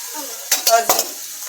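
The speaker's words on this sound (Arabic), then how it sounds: "غادي نديرو هكا فوق البوطه حتى يبدا يغلي" Caramel is stirred in a pot over a gas burner, with a steady soft hiss under a few quick scraping, clinking strokes of the spoon against the pot, close and alone.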